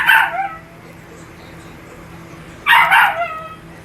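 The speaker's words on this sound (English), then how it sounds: "That's my dog." A pet dog outside barks to be let in, two short clusters of sharp yips and barks, one at the start and another near the end, separated by quiet room tone.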